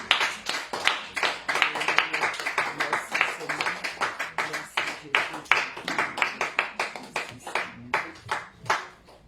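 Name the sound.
congregation applauding to acclaim the word of God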